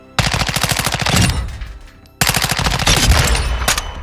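A Honey Badger rifle fires on the firing range in Modern Warfare 2: two loud, close bursts of rapid automatic fire, split by a brief pause, with dense clattering shots in each burst.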